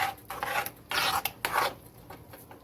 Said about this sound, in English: I'm going to keep a stir on them